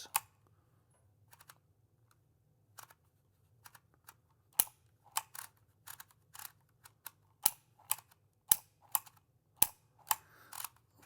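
Sharp, separate clicks from a Dymo Omega embossing label maker as characters are pressed into the tape. They come slowly and irregularly at first, then grow louder and closer together, each one alone over a quiet background hum.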